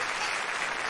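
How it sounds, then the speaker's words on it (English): Many hands clap together in the visual novel Kinkoi: Golden Loveriche as a room of black-suited guards applauds. The applause is steady and dense, a short unbroken burst with no voices. "Every single black-suited guard applauding."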